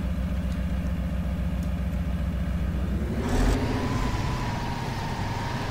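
A truck engine in the SpinTires driving game drones steadily at low pitch, then its tone shifts and rises slightly as the throttle changes partway through, with no voices.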